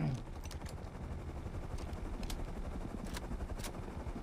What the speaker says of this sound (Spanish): Dale un tiro.